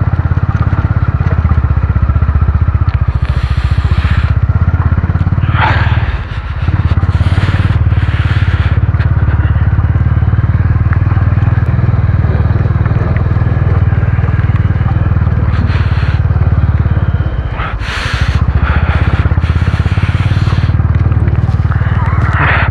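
Motorcycle riding along a muddy mountain road in Himachal Pradesh, with a steady loud engine drone running throughout, brief dips as the throttle eases, and wind buffeting over it; a rider talks over the engine.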